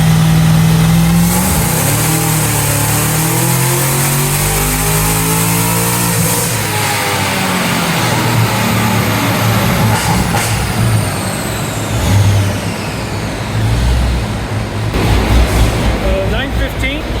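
A tuned 1000hp Cadillac CT5-V Blackwing engine revs hard on a dyno, rising steadily through the gears with a loud, sustained roar and a brief dip midway before pulling again.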